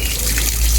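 Water pours and splashes steadily while a serama chicken is bathed, a close, continuous wash of running water with no voices.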